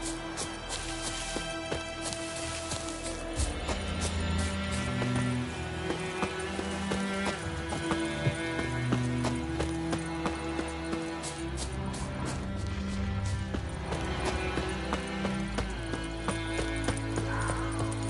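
Horse hooves clip-clop at a gallop in Witcher 3, a steady rhythmic pounding under a continuous bed of game music, with no voices.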